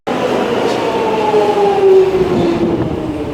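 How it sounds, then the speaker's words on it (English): A train pulls into a London station, a steady rumbling roar with a descending metallic squeal of brakes sliding down in pitch, loud and close throughout. "Our train is here and we're going back home."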